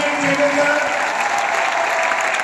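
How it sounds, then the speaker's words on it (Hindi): Loud, sustained applause from a standing audience at a business meeting in Lucknow, a dense steady clatter of clapping hands filling the room with no break. "खड़े होकर जोरदार तालियां"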